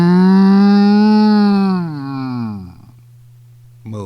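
A voice imitates a cow's moo: one long, low, drawn-out call that slides down in pitch and fades. It is close and loud, with nothing else behind it.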